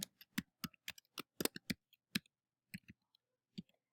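Quick, crisp keystrokes on a computer keyboard, a close, irregular run of dry clicks with short pauses between bursts, heard alone without talk.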